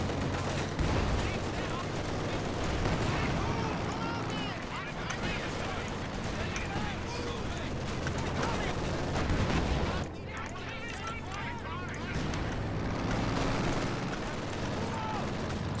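Sustained machine-gun and rifle fire from Company of Heroes 2 battle, dense overlapping bursts with distant artillery booms, continuous and loud throughout with a brief dip near the end.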